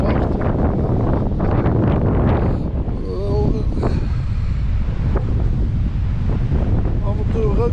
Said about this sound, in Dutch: Oeh, het waait er serieus hard.